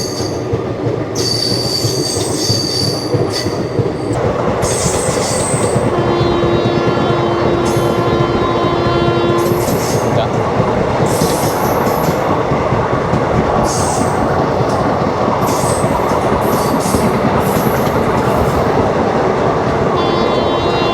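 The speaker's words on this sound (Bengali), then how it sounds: "ডানকুনি পেরুনোর পর কিন্তু সাংঘাতিক স্পিড নিয়ে নিয়েছে ট্রেন" A Vibhuti Express passenger train on the Howrah–Varanasi route runs at speed past Dankuni, heard from on board as a loud continuous rumble with high wheel squeals, rhythmic clatter and a brief tonal whine, with no talk.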